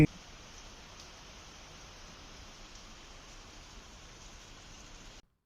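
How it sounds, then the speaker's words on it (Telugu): Heavy rain pours onto a studio building's terrace in a steady, even hiss of falling water that holds unchanged for several seconds before cutting off. "సూపర్గా ఉంది, ఫుల్ వాన పడుతుంది"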